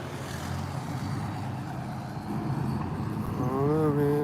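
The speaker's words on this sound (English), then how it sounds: "He kind of like revved his engine." A car drives past on a street close by, its engine rising into a rev with a climbing, wavering pitch in the last second over steady road noise.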